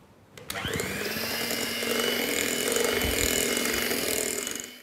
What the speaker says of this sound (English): you can increase the speed of the hand blender to give it a final whip